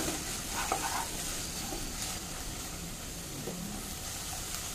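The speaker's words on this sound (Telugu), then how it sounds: "మిక్స్ చేద్దామండి ఇది." Vegetables cook in a pan with a continuous soft sizzle, while stirring adds occasional scraping and clinking close by.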